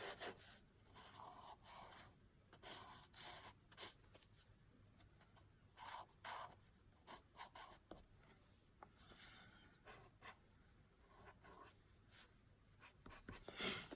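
Colored pencil scratches across paper in soft, uneven strokes and quick rubbing bursts while a tree with tapering branches is drawn. The sound is faint and close.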